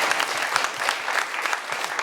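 Audience applause at a community gathering in Savannah, a steady wash of clapping hands at moderate volume lasting the full stretch, with a few brief voices mixed in.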